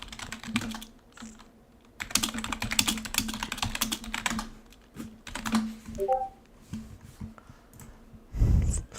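Typing on a computer keyboard, bursts of rapid clicking keystrokes with short pauses between, fairly close, with a few small electronic tones and a breathy sound near the end.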